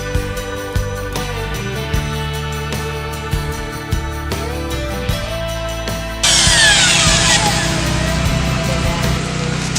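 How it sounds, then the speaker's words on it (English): A power drill runs continuously with a whining motor, then grinds louder as a 3/4 inch auger bit bores into wood, with chips tearing through the final seconds. "this is our 3/4 inch augers made for going through wood and boring a 3/4 inch hole"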